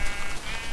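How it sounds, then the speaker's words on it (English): Sheep bleating on a small sheep farm in Minecraft, with adult and baby sheep present; a single short bleat comes up close and clear over a faint steady background, lasting under a second. "you can actually breed sheep, and this is my little sheep farm"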